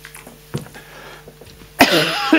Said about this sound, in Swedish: Nu är en host på gång igen.